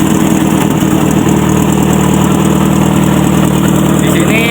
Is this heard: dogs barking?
no